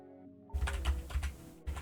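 A few quick bursts of key presses on a computer keyboard after a brief quiet start, close and fairly soft, with no one speaking.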